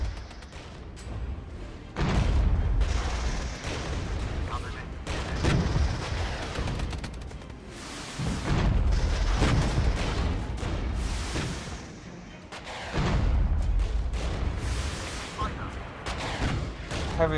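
Heavy artillery firing in the real-time strategy game Regiments: deep, rumbling booms land every few seconds over a continuous battlefield din.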